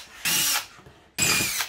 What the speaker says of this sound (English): So I'm going to drill the holes out so they fit.